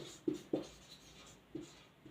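Handwriting during an animal husbandry class, a few soft scratchy strokes in short bursts, close and quiet with no talking.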